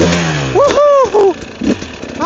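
A motorcycle engine revs and whines up and down in pitch during a slow wheelie on snow, loud and close, with rising and falling throttle bursts.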